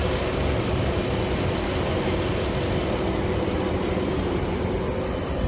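Steady, unbroken engine idle from a 2010 Jeep Wrangler, a constant low rumble with a broad hiss on top that stays even and close throughout, with no voices.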